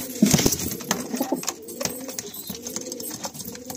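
Soft, low cooing of several pigeons close by, overlapping murmurs with some rustling and faint background chatter.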